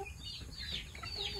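Chickens of an African breed cluck and chirp softly near their coop, scattered calls rising and falling at a faint, moderate distance with no talk.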